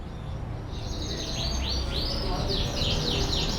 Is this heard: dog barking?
no